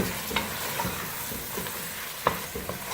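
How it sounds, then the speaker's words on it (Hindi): Steady frying sizzle crackles as chicken fries with onion, garlic and ginger in a pan, with a few sharper pops and scrapes of stirring. "चिकन को हम साथ ही भूनेंगे।"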